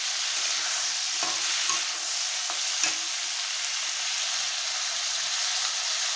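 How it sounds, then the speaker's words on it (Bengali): Potatoes and vegetable stalks fry in a pan, with a steady, loud sizzle running throughout and several sharp scrapes of a spatula stirring them against the metal. "ডাটা দিয়ে আলু দিয়ে ভালো করে নেড়ে চেড়ে নেবে"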